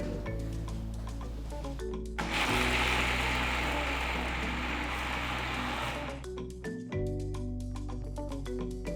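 A mixer grinder whirs loudly for about four seconds, grinding green chilli coconut chutney with tamarind, rock salt and a little water, then stops; soft background music runs before and after.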